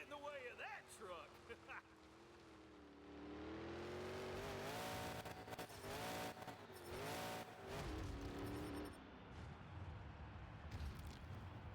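A monster truck engine revs and roars in the Monster Jam Showdown video game, rising and falling pitch with tire noise, while a player talks over it.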